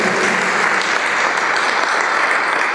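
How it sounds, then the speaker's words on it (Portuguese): A congregation at a Portuguese-language Christian church service applauds Jesus, producing dense, loud, sustained clapping that fills the room without pause. "Você pode dar um aplauso a Jesus?"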